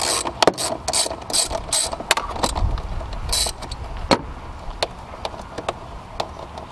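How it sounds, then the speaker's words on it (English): A socket wrench loosens an air tube clamp on a Lexus GS/IS engine, giving rapid ratcheting clicks in bursts followed by scattered metallic taps, close and clear with no talking. "grab a 10 millimeter socket. And you can go on ahead and loosen up the air tube here."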